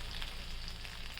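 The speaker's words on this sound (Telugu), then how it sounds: "ఈ బంగాళదుంపలు కూడా ఇప్పుడే వేసుకుంటే బాగా వేగుతాయి అన్నమాట." Potatoes fry in a pan with oil for a paneer mixed vegetable curry, giving a steady, even sizzle that stays close and continuous throughout the brief moment.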